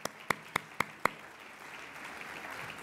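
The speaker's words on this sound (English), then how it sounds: "round of applause" Five sharp, evenly spaced claps ring out close by at a Gators alumni awards ceremony, then give way to soft, scattered applause from the room.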